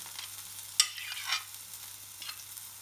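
Veal burger meat frying in a pan, a quiet sizzle with a couple of sharp utensil scrapes and clicks, close by and otherwise calm.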